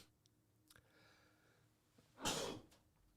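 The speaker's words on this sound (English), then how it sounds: "I'm going to mute the mic if I sneeze again." A single sharp sneeze bursts out loudly near the microphone after a few quiet seconds of faint background noise.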